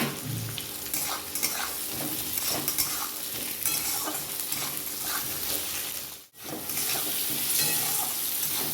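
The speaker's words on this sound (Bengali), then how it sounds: "এবার আলুটা দিয়ে দেবো একসাথে আলু আর পেঁয়াজ ভাজা হবে" Potato and chopped onion fry together in an oiled pan, with a steady, close crackling sizzle, repeated stirring scrapes and one brief dip partway through.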